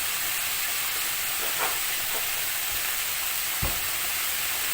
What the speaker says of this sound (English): I'm going to heat this chicken up.